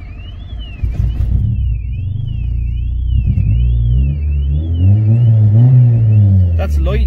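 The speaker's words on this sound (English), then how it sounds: "That's lightly revving it," A Mini fitted with a Honda B16 VTEC engine revs lightly, a steady low engine rumble swelling and easing with the throttle, close by under a voice and an up-and-down alarm-like whine.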